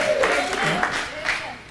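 Audience clapping at a live event, a broad wash of applause with crowd noise while a voice speaks over it.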